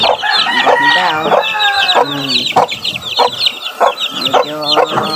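Young chicks, some recovering from illness, cheep and peep in dense, rapid high chirps throughout, with clucking fowl close by and no talk.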